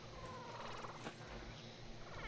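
Cats purring in the video game Scrap Mechanic, a steady low rumbling purr running continuously throughout at moderate level.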